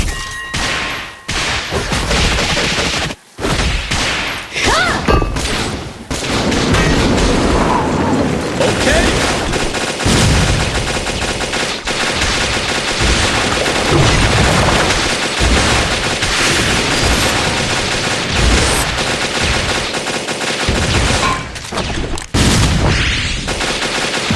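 Dense gunfire and explosions in the Metal Slug Awakening boss fight against Mech Maniac Tarpu, loud continuous rapid shots and booms with brief gaps over about 24 seconds, with voices mixed in.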